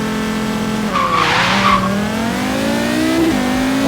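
A '95 Audi RS2 Avant with a five-cylinder engine holds a steady high rev on a 2-step launch in Forza Horizon 3, then tires squeal briefly as the car launches and the engine note drops and climbs again.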